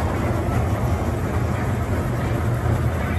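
An amusement park ride train at a rural entertainment park gives a continuous, fairly loud rumble with no distinct clacks or whistle.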